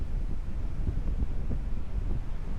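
Strong wind buffets the microphone at Marcy's Point campsite, a low continuous rumble of gusts throughout, with no voices.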